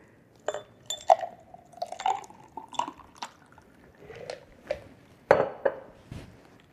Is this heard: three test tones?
no